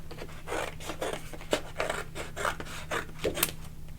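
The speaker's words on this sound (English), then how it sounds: "So I'm going to go ahead and use my scissors." Scissors cut through chipboard paper in a run of close, crisp snips, each a short rasping crunch repeating about twice a second against a quiet room.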